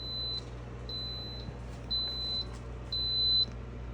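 An Instant Pot signals the end of its yogurt program with four evenly spaced, high-pitched beeps, each about half a second long, ringing clearly over a low kitchen hum.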